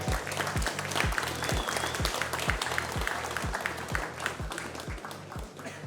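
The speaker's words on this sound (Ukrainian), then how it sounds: "Давайте привітаємо нашого дебютанта гучними оплесками." An audience at a fight event applauds to welcome a debuting fighter, a dense steady wash of many hands clapping that fills the room for several seconds with no pause.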